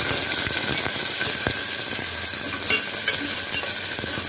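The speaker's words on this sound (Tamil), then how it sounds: "அதனால நான் பச்சை மிளகாய் போடுவேன். இதை கொஞ்சம் நல்லா இதோட வதக்கி" Green chillies sautéing in a pan for mutton curry, a steady sizzle with occasional scrapes and taps of a stirring spoon against the pan, close and alone.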